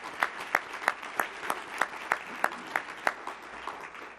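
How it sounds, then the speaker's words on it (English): At an awards ceremony, applause for the nominees comes across as a sparse, rhythmic run of individual hand claps, evenly spaced about three per second and fairly close, over a faint background crowd. "Another round of applause for everyone"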